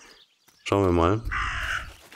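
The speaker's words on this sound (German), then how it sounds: "Warum krächzt der Rabe?" A raven caws in the video game Martha is Dead, one loud, harsh, drawn-out croak near the start, followed by a shorter rasping call, with a person speaking briefly over it.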